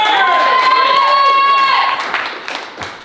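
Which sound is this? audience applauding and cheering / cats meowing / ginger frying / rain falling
audience applauding and cheering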